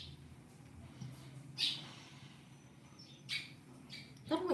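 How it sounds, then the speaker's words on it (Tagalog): A bird calls outdoors in a few faint, brief chirps spaced a second or two apart, heard over a low, steady background hum. "Narinig ko yung ibon."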